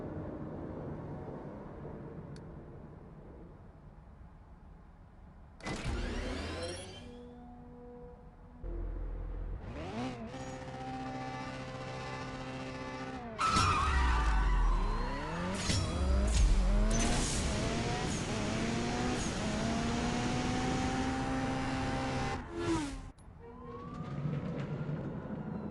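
Drag race run of a tuned car in CSR Racing 2, engine revving at the line, then launching and screaming up through rapid gear shifts, loud and steady until the run ends.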